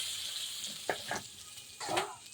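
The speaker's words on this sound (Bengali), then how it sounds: "তেজপাতাটা ফোড়ন দিয়ে দিলাম" A bay leaf tempering in hot oil gives a faint, steady sizzle, with a few brief crackling bursts rising above the hiss.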